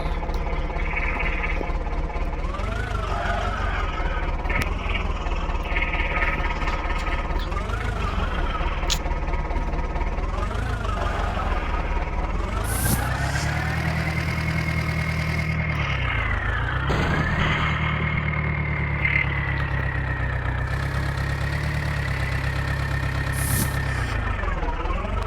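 Tractor engine idling in a video game, a steady synthetic drone with a wavering, rising and falling pitch throughout, continuous and fairly loud with no talking.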